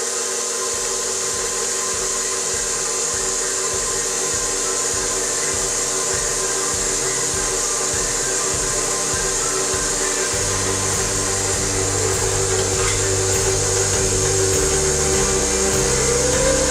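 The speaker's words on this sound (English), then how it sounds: "You can mix this by hand, but it is much easier to do it on the mixer." Stand mixer kneading sourdough bread dough, a steady loud motor whir with a rhythmic low churning that shifts pitch partway through as the speed changes, continuous and close, no voices.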